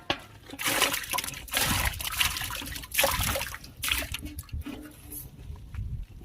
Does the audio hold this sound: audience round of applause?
no